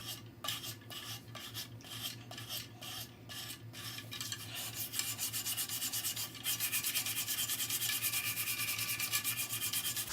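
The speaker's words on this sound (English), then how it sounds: "that's the dowel rod scratching the cement" A wooden dowel rod scrapes across cement in a steady, close, gritty rubbing that carries on without a break and grows a little stronger toward the end.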